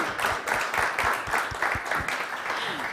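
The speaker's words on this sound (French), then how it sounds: "Elle a quand même droit à ces applaudissements, quand même." Applause at a bathroom-industry conference event, a short round of rhythmic clapping from an audience, moderately loud and steady throughout.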